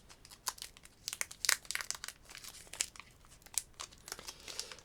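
A Pokémon card booster pack is torn open and crinkled close to the microphone, the foil wrapper giving sharp, irregular crackles and rips in quick bursts over a quiet background.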